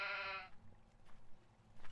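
A single sheep in the video game Minetest gives one clear, fairly loud bleat for about half a second, then faint quiet background follows.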